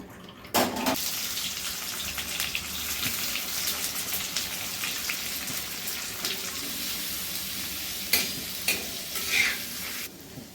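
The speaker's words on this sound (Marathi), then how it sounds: "आता आपण मसाला भाजून घेऊया।" Masala spices dry-roasting on a hot tawa for a spicy chicken curry, a steady broadband sizzle with stirring scrapes and a few sharper clatters near the end, close and continuous with no talk.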